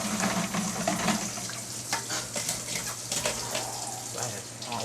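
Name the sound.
hot water running from tap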